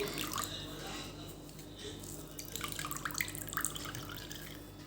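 Water squeezed from a cloth of fresh paneer drips and trickles steadily into a basin close by, with a few splashier patters toward the end.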